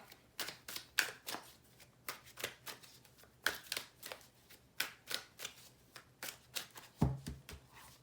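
A deck of tarot cards is shuffled by hand, a steady run of crisp riffling bursts and soft slaps repeating close up for several seconds, with no talking.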